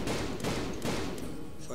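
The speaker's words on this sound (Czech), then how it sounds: "kdo to střílí? Odkud to střílíš?" Gunfire in the Call of Juarez video game during a firefight, a rapid run of loud shots and bursts filling the short moment.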